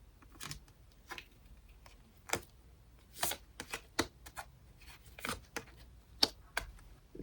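Tarot advice cards are shuffled and drawn: a string of soft, papery flicks and snaps in irregular bursts, close and fairly quiet, with no voices.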